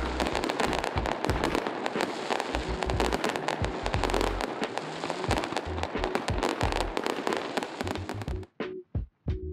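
Dense, continuous bursts of fireworks booming and crackling over Darling Harbour, Sydney, for several seconds, loud and overlapping, ending in a few separate sharp bangs with gaps between.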